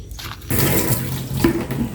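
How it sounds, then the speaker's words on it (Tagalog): Chicken is washed under running tap water, a steady close splash and gush that surges louder halfway through, with no voices. "Hugasan ko muna ang chicken."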